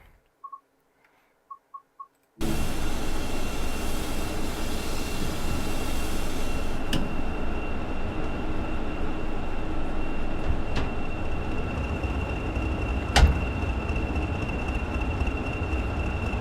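A Class 20/3 diesel locomotive in DRS branding in the game Train Sim World 6 starts up after a few short beeps, then runs with a loud, steady engine drone and rolling rumble, broken by occasional clanks.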